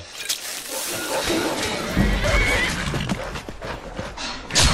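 In the video game Skyrim Special Edition, a horse whinnies loudly and snorts amid clopping hooves and rustling movement, with a faint voice underneath; close and continuous throughout.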